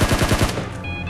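A quick string of rapid, close gunshots rings out during a PUBG match on Erangel, then fades into a thin high tone and the lingering echo of the shots.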